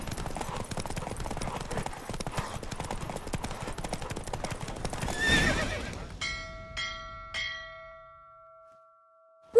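A horse gallops in a race in The Witcher 3, its rapid hoofbeats drumming steadily and loudly with a neigh near the middle, then giving way to a few ringing chime tones as the race ends.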